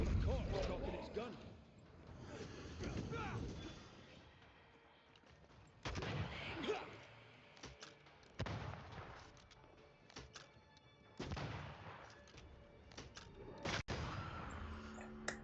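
Gunfire in Banishers: Ghosts of New Eden comes as several sharp shots and heavier booms spaced through a tense game scene, with voices heard at times.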